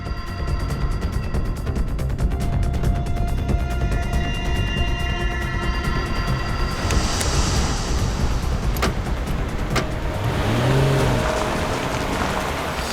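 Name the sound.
car suddenly speeding up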